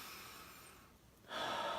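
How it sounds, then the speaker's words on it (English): A slow, quiet breath drawn softly in through the nose and then let out as a louder, breathy exhale through the mouth, close to the mic, with no talking. "So I'll be doing the breathing"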